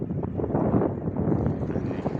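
Strong gusting wind on open ground near Keban Dam, Turkey, buffets the microphone with a loud, continuous low roar that surges and dips.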